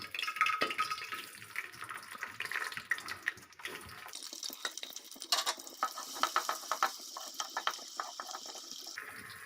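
Finely chopped onion sizzles in hot oil in a pan, a continuous crackling hiss up close that changes when stirred partway through, with scattered clinks and no talking.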